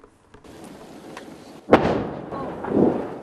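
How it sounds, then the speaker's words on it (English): A quiet rumble gives way to a sudden loud blast, then a second heavy boom rolls out, like distant explosions from Israeli military strikes. "Explosions thundered and massive plumes of smoke billowed"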